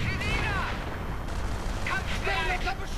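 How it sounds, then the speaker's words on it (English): Hummel artillery pounding positions in a World War II strategy game, heavy booms and rumbling explosions mixed with battle noise while someone talks over it. "Hummels are still bombarding the crap out of their the Allied position"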